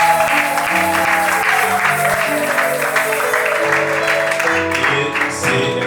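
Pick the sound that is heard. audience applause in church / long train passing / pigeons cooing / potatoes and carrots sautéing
audience applause in church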